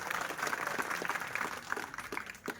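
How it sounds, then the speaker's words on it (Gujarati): An audience applauds at a village celebration of Babasaheb Ambedkar's 135th birth anniversary, a soft, steady wash of clapping from a crowd at some distance. "એની માટે જોરદાર તાળીઓથી લઉં છું"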